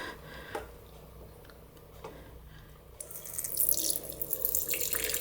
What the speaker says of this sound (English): Fill the water dish